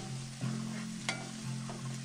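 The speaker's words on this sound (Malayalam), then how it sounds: "അപ്പം ഇത് നമുക്കൊന്ന് ഇളക്കി കൊടുക്കാം." Ginger garlic paste sizzles steadily in a pan for fish curry while a spoon stirs it in a few soft scrapes and taps, quiet and close with no talking.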